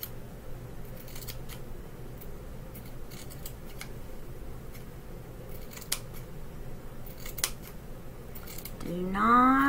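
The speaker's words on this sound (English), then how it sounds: "And we're snipping it too. Snip, snip, snip." Scissors snip through fabric for a rag quilt, a run of crisp, irregular cuts close by over steady room noise, ending with a short rising squeal.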